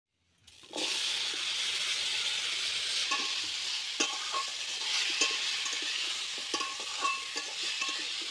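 Dried chillies and garlic fry in a little oil for a taro dish, a hiss that bursts in suddenly and holds steady, broken by scattered pops and scraping stirs, close up, with no talking.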